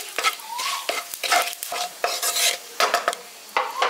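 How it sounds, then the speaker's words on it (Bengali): Whole cumin seeds and a bay leaf frying in hot oil for a tempering, a crackly sizzle broken by repeated spoon scrapes and clinks against the pan, close and fairly loud. "তার সাথে দিয়ে দিচ্ছি 1/2 চামচ গোটা জিরে আর একটা তেজপাতা। ফোড়নটাকে হালকা একটু ভেজে নিচ্ছি।"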